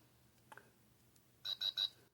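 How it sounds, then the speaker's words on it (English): Lego Smart Play brick giving three quick electronic beeps in a row, preceded by a faint click, small and quiet in an otherwise hushed room. "Slightly different beeping."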